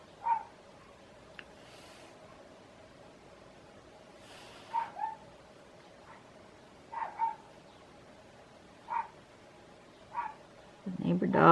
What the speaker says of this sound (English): The neighbor dog is having some sort of fit.